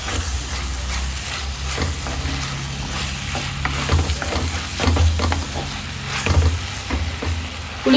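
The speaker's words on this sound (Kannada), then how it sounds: "ಟೊಮೆಟೊ ಚೆನ್ನಾಗಿ ಫ್ರೈ ಆಗಬೇಕು." Tomatoes fry in a pan with curry leaves for a dry fish curry, giving a close, steady sizzle punctuated by repeated spatula scrapes and clinks.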